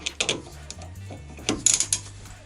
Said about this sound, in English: Remove this bottom 14mm bolt from the caliper. You can try using a socket wrench,